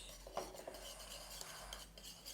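A utensil scrapes and clinks against a bowl while mixing a batter with aloe vera gel, soft and close, with irregular light taps and stirring rubs.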